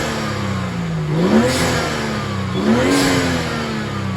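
A BMW 435i engine fitted with a CTS turbo intake revs twice from idle, each rise swelling into a loud, close throaty roar before dropping back to a steady idle hum, with no talking.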